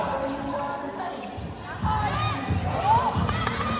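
Crowd cheering at a school basketball game between Thepsirin and Pornpitthayapat, a broad roar of shouting voices that swells midway and stays loud, with commentary running over it.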